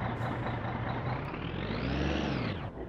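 A heavy truck in the My Summer Car video game rumbles with a loud, steady engine drone and a sharp air hiss, the engine note rising then dropping away near the end.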